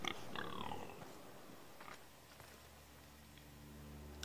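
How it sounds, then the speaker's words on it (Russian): A pig in the Telltale Game of Thrones video game gives a few short, faint grunts at the start, followed by a quiet, low ambient hum. "О, свинюшка тут гуляет."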